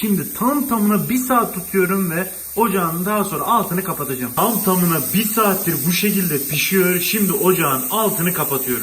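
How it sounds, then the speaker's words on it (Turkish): A steady, high-pitched hiss from a pressure cooker cooking kelle paça runs under a person talking continuously, close and constant. "Görüyorsunuz düdüklü tencerenin sesi çıkmaya başladı."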